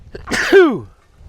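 A single sharp sneeze bursts out close by, a quick intake followed by a loud explosive release that trails off.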